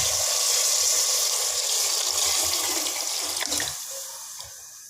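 Water is poured steadily from a container into a cooking pot of soaked lentils, about 1.5 litres, a continuous close splashing gush that thins toward the end.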